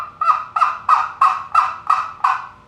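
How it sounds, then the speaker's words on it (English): A wild turkey gobbles seven times in a steady, evenly spaced series, each call loud, close and rattling, with no talk over it. "Sometimes he'll keep gobbling, so you can tell where he's at"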